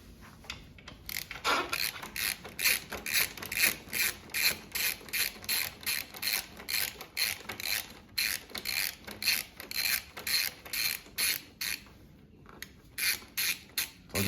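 Rapid, steady ratcheting clicks come in bursts as bolts on a 2024 Honda CBR650R tail section are loosened with a 5mm Allen key, with short pauses between turning strokes and no talking.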